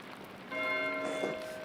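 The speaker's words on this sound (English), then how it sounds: "Why is Matthew ringing the bell?" A monastery church bell rings in the video game Pentiment, a sustained, resonant metallic tone that swells in and hangs over soft rain-like background ambience.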